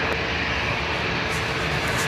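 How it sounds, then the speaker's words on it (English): An Aer Lingus airliner taxis at Dublin Airport, giving a steady, continuous engine roar with broadband rushing noise that holds at an even level throughout, no voices present. "Aer Lingus taxiing out here to Lyon"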